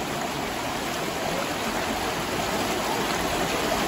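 River current flowing steadily at a riverside picnic spot in Manzanares el Real, Spain, a continuous close broadband rush of water with no pauses and no talking.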